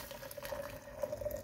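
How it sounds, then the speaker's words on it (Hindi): Water boiling in a pot for kahwa tea gives a faint, soft bubbling with a light, steady liquid hiss, quiet and close. "पानी जो है वो बॉयल हो रहा है यानी हो गया"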